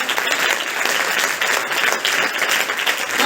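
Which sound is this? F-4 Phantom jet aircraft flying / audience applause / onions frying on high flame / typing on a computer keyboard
audience applause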